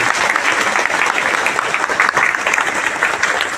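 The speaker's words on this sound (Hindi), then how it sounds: "एक जोरदार तालियां डॉक्टर आनंद बाजपेयी जी" Loud, sustained applause from an audience fills the hall after a guest, Dr. Anand Bajpai, is introduced at a motivational talk, dense clapping holding steady throughout without a break.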